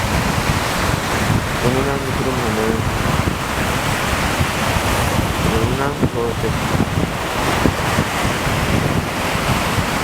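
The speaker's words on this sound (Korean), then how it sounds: "파도가 밀려옵니다." Ocean waves roll steadily onto the beach at Dadaepo in Busan on a chilly spring day, loud and continuous with strong wind buffeting the microphone while someone talks over it.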